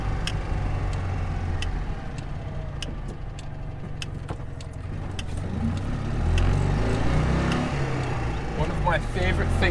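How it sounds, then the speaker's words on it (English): A car's turn indicator ticks in a steady, evenly spaced rhythm inside the cabin while the engine rumbles along on the road, with a person talking over it. "My favourite things about Jolene is the sound of the indicator."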